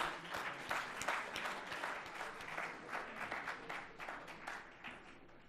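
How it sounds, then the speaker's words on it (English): An audience at a Commonwealth Med-Arb conference event gives a sustained round of applause for the dignitaries, many hands clapping evenly and fairly distant, with faint talk underneath. "May I request a round of applause for the dignitaries?"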